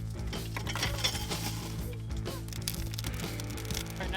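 Sauce stirred in a pot on an outdoor coal-fired cook, with a steady, even scraping and clinking from a utensil against the pot over a constant background hum, and no talking.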